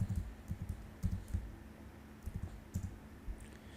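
Keystrokes on a computer keyboard while entering Python code, a quick burst of typing followed by a firmer Enter press, close and fairly quiet with short pauses between clusters of clicks.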